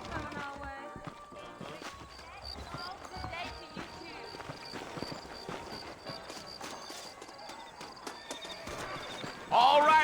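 Saddled horses ridden in Red Dead Redemption, their hooves clip-clopping in a steady, continuous walking rhythm at moderate volume, with voices talking over them and a louder burst right at the end.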